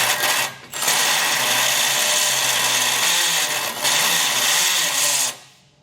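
A power drill bores out a hole in the frame of a 2021 Jeep Wrangler, whining loudly and close with a steady grinding roar, briefly easing twice before spinning down at the end.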